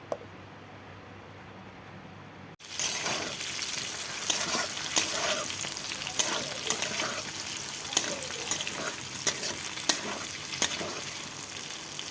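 Food fries in a pan with coriander and cumin: a quieter opening, then a sudden loud, close sizzle with scattered sharp crackles and spits that keeps going steadily.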